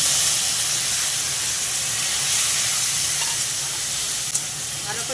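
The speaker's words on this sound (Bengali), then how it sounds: "দিয়ে দেবো পেঁয়াজ বাটা, আদা রসুনের পেস্ট" Onion paste, ginger-garlic paste and tomato frying in a pan with potatoes while cooking a fish curry, giving a continuous loud sizzle and hiss with faint stirring, and no talking.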